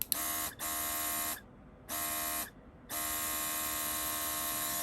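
A small AliExpress airbrush compressor hums with a steady buzzing drone that cuts out twice for brief pauses before resuming, close and fairly quiet.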